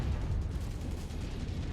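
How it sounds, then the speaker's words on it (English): Ammo explosion on a mech in the MechWarrior 5 video game, a dense, loud, rumbling blast sustained for a couple of seconds with no voices over it. "Ammo explosion detected."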